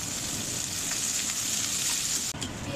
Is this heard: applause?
no